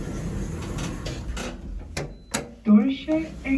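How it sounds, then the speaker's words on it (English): Lift doors at Hazelhatch & Celbridge railway station slide open with a few mechanical clunks and rattles, followed by a loud melodic chime at close range. "Doors opening."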